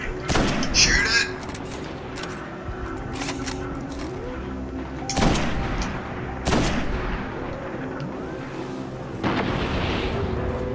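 Gunshots in the video game Destiny: several heavy, booming shots spaced a few seconds apart over a steady rumbling game background, with some voices in the mix.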